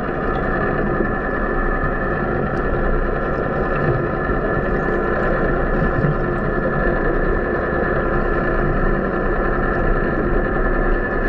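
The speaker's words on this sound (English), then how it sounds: "the humming of the boat engines" Steady underwater hum of crabbing boat engines off Oahu, a continuous drone with no breaks or speech.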